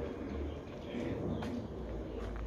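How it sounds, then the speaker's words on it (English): A pigeon or dove gives a soft, low cooing call outdoors, faint and fairly distant beneath steady background rumble. "There's a bird."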